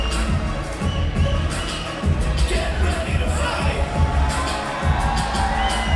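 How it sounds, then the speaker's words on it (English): A large crowd cheers and shouts continuously at a Matrix Fight Night MMA event in an auditorium, loud dense applause and whoops filling the space for several seconds. "look at the crowd in absolute appreciation"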